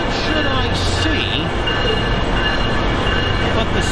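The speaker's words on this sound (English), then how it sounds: "So I come on the train here at Hoboken" A train pulls in at Hoboken station, giving a loud, steady rumble of rail cars with high metallic tones and faint squeal. The noise holds constant for the whole stretch, close and continuous, with some background voices mixed in.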